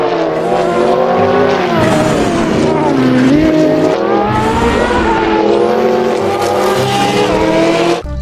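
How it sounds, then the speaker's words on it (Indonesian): Toy race car engine sound effect, a loud continuous revving whine with rising and falling pitch and tire squeal, sustained throughout amid music-like tones, with no talk over it. "Wow, lihat teman-teman, ini mobil balap"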